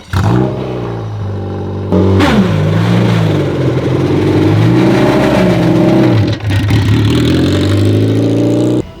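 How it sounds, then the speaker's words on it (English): F1 race car starting up on track, its engine catching and settling into a loud, close, rough idle with blips of revving, dropping briefly near the end. "we're ready to start it up again. Never done a startup on the track before"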